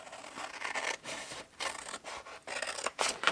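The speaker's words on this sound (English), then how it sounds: "the best thing to do is cut here" Big scissors snip through 12 x 12 floral paper for a gift bag, with rubbing, rasping cuts in several short bursts separated by brief pauses, close and fairly quiet.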